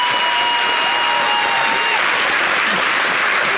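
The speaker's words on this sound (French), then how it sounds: "Merci de l'applaudir." A studio audience at a French-language Easter television broadcast applauds steadily, with a dense, even wash of clapping filling the whole stretch and no talk over it.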